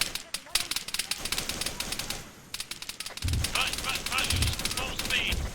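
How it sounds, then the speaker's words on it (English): Incoming gunfire in Arma 3 during a Vietnam-era boat patrol: rapid, dense cracks of automatic fire rattle through most of the stretch, with a brief lull, alongside engine-like rumble and people talking. "Here's that incoming fire."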